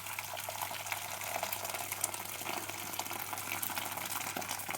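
Hot water from a kettle poured onto toasted flour while making yogurt soup with noodles: a faint, steady stream of liquid over low background hiss, continuous and unbroken.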